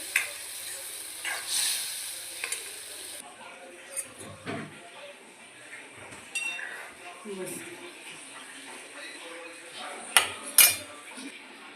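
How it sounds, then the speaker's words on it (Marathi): Dal poured into a sizzling tadka tempering of curry leaves and spices in a pan gives a brief hiss. Metal utensils then clink against the pan, with someone talking over the cooking. "आता यामध्ये मी त्या तडक्यामध्ये मस्त डाळ टाकली आहे"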